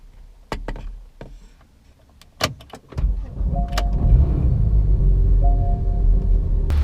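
Several sharp clicks and clunks, then a Porsche GT3 engine starts up and settles into a loud, deep, continuous rumble.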